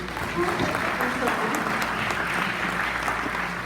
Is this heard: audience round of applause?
yes